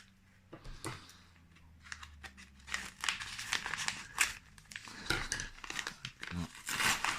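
An eBay parcel is cut open close by, with blade scraping, rustling packaging and crinkling plastic building into busier, louder handling toward the end.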